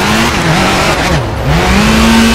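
Rally car engine in the WRC 4 racing game held loud and steady, its revving pitch dipping and climbing back through a handbrake turn, with a faint tire skid layered underneath.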